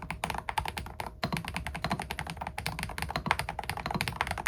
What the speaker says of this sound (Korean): 일반적인 스위치보다는 살짝 조용한 느낌이에요